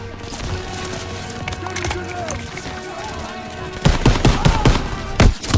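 Gunfire in Call of Duty WW2, with a steady stretch of weapon noise under a talking player, then a cluster of loud, close shots in quick succession near the end.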